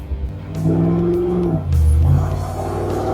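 An LS-swapped 1983 Jeep Scrambler with a 4L60E automatic drives along, its engine note rising steadily, briefly easing off as the transmission shifts, then pulling again at loud, close range.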